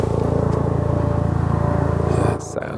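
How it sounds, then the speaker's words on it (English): A helicopter passes overhead outdoors near a Fukuoka viewpoint, giving a steady, loud, pulsing engine and rotor drone that fills the clip, with wind or handling noise near the end. "That sounds like a helicopter."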